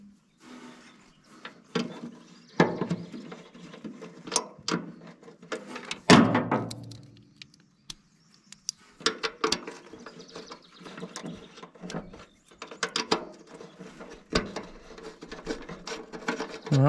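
A socket wrench works loose bolts on a Ford 8N tractor during repair, giving close, irregular ratcheting clicks and metallic clunks in bursts with brief pauses and no talking.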